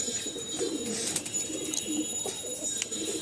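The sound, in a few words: pigeons cooing in a loft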